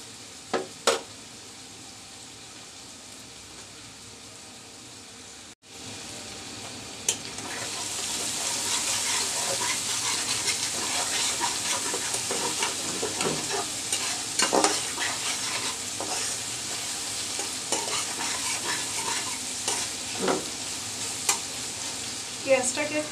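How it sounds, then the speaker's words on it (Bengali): Onions frying in oil in a pan while a Bangladeshi-style pomfret curry is cooked, with a steady crackling sizzle building after a brief pause and occasional stirring scrapes, close and continuous, with no talk. "পেঁয়াজটাকে একটু ভালো করে ভাজা করে নিতে হবে"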